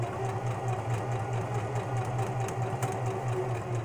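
A sewing machine stitching fabric slowly, its motor giving a steady mechanical hum and whirr close by, with no talking.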